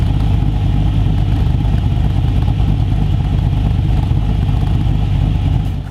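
An LS V8 engine with a VCM 9 camshaft idling, a loud, close, steady low rumble with a slight lope, continuous and without speech.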